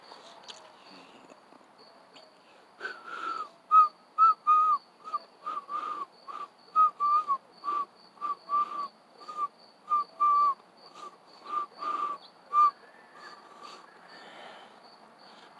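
A person whistles a rapid series of short, chirpy notes, repeated in an uneven rhythm, imitating birdsong, close by and clear over a quiet background.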